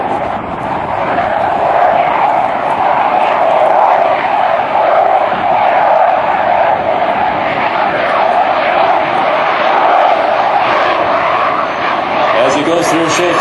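A US Navy F/A-18 Super Hornet makes an inverted pass at idle power under 100 mph with a steady, broad engine roar, not very loud, heard over a murmuring crowd for the whole stretch.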